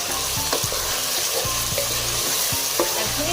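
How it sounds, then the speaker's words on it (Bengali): Beef being stir-fried in a pot for biryani, a dense close sizzle broken by repeated clanking spatula strokes in an uneven rhythm, with no talking. "তবে মাংসটা হচ্ছিল, তখন আমি রান্না করে এসে এই যে একটু শুট করলাম। মাংসটা কষানো হবে।"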